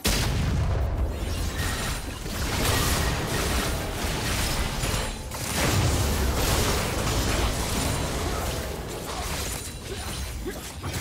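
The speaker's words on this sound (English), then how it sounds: "Red team's turret has been destroyed." A turret crumbles in League of Legends with a sustained, loud rumble of blasts, booming impacts and mechanical clatter over dense battle noise, lasting several seconds.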